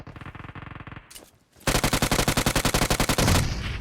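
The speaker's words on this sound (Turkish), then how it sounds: "Bu arada şu taraftan da Uzi sıktılar. Hala sıkıyor." Close Uzi fire in a PUBG-style battle royale game: two long rapid bursts of rattling shots, the second louder and fuller after a short pause, with no talk.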